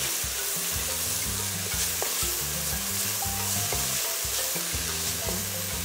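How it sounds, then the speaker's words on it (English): Pumpkin and carrots with thyme stirred in a pot for Trinidadian coo coo, giving a continuous sizzle and rhythmic scraping strokes close up, with no voices. "Pumpkin, carrots, and then we give it a stir."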